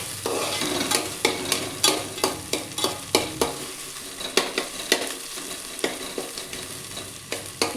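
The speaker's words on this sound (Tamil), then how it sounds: "கோகனட் ஆயிலும் கொஞ்சம் ஆயில் விட்டு நல்லா இளக்குங்க." Garlic, shallots and ginger sizzle in coconut oil while a utensil scrapes and stirs the pan in a quick, repeated rhythm of close clinks over a steady frying hiss.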